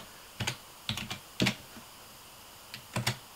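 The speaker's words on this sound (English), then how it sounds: "The next thing we'll type is fastboot" Keys on a computer keyboard are tapped to enter a fastboot command while unlocking a Nexus 10 bootloader. Short, close clusters of clicking keystrokes are separated by brief pauses, with no talking.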